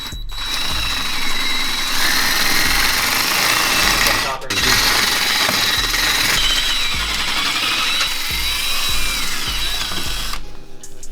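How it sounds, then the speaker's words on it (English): A power drill whines steadily and loudly for several seconds, its motor pitch wavering as it bites into a stripped metal set screw on a 10th-gen Honda Civic Si brake rotor, with a brief pause midway. "I'm gonna have to drill this out in order to remove the rotor"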